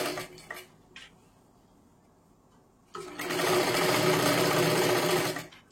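A sewing machine runs a steady burst of stitching along a sleeve seam of a four-tuck blouse, following a few quiet taps and handling noises; the motor whirs loud and close for about three seconds, then stops.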